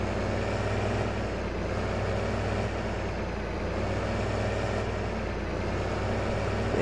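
A tractor engine in a farming game, working a muddy field in northwest Ohio, drones steadily at low pitch with a constant rumbling hum, close and unchanging throughout, with no talking.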